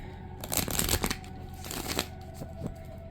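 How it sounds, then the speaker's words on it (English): A deck of tarot cards is riffle shuffled and bridged up close, giving quick fluttering bursts of card snaps followed by softer taps and settling sounds, with no talking. "I'm gonna shuffle these cards"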